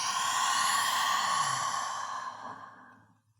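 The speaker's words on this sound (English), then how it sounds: "Exhale." A deep, steady exhale during a yoga breathing exercise, a long breathy rush that holds level for about two seconds and then fades away, heard close and alone.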